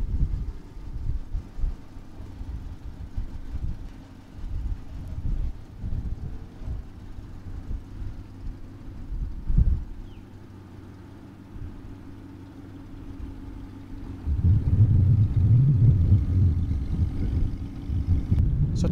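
A bagged Toyota Century with a VG45 engine and custom exhaust drives through town, producing a low, uneven engine rumble that dips and swells, then grows into a louder, steadier drone near the end, with no talking.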